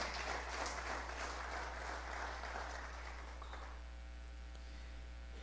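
A church congregation applauds, a dense crowd clapping that fades out after about four seconds, leaving a steady electrical hum.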